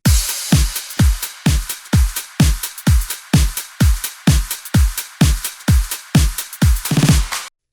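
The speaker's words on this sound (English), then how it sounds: "The drum sounds like this." An electro swing drum beat built in FL Studio for a J-pop track pounds out steady four-on-the-floor kicks with snare on the backbeats and busy hi-hats, ending in a crash, loud and alone without voices.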